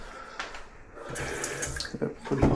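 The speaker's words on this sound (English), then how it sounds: "He put in the new faucet and stuff." Water runs steadily from a newly installed faucet into a sink, a continuous close splashing stream with a brief louder surge near the end.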